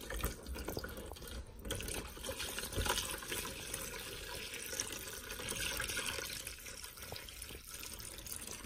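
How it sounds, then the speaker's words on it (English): Freshly boiled hot water pours from a pot into a bin, a continuous close splashing gush, fairly quiet and steady, with no talking. "Pour the hot water into the bin."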